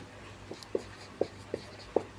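Chalk or marker strokes on a board during a maths lesson, with short, evenly spaced scratchy taps repeating about every half second, close and clear, with no voice.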